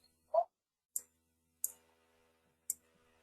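A computer mouse clicks sharply three times at uneven intervals during CAD work in CATIA, near and crisp in an otherwise quiet room, with one brief soft sound before the first click.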